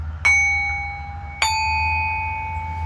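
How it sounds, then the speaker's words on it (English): Two sound bowls are struck about a second apart. Each strike gives a clear, sustained ring with steady overtones that fade slowly and overlap. A low hum runs underneath, and no one speaks. "I busted out some of my sound bowls today."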